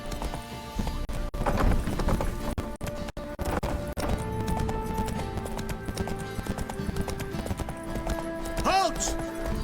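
Roach the horse gallops in The Witcher 3, fast rhythmic hoof beats close by, with a whinny near the end and game voices over the top.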